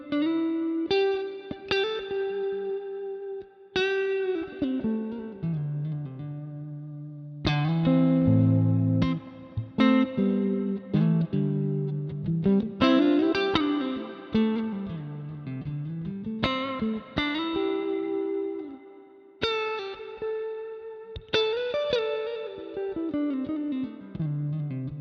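Electric guitar through the Neural DSP Archetype plugin plays a melodic solo with sustained, bending notes drenched in spacious reverb and some effects coloring, continuous and fairly loud with no talking.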